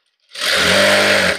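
Sewing machine stitching readymade piping onto a blouse, a steady close whirring motor run starting abruptly after a brief silence and holding for about a second.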